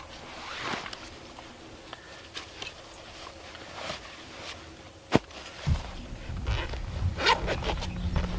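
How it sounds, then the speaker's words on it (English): A number 10 zipper is pulled open along a backpack in several raspy zipping strokes close to the microphone, mixed with rustling and handling of the fabric, with no one talking. "Number 10 zipper to open this."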